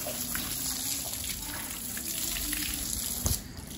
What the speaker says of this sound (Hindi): मोटर चल रही है सीधी कुएँ से और पानी आ रहा है